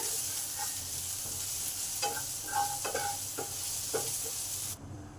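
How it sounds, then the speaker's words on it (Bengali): Salted onions sizzle in a pan while a spatula scrapes and stirs several times, the frying hiss steady until it suddenly cuts off near the end. "পেঁয়াজটা যতক্ষণ ভাজা হচ্ছে"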